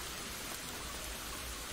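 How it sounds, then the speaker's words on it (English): Steady, dense rain pouring down in a PC adventure game, a continuous hiss of heavy downpour with no pauses, moderately quiet and heard alone. "Damn, it's raining like cats and dogs."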